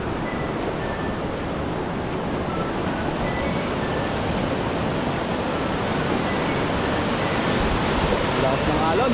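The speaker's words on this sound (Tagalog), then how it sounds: "Lakas ng alon, no?" Strong rushing water at a hot spring, a loud, continuous broadband roar like powerful waves or a torrent close by that swells slightly toward the end, with no pauses.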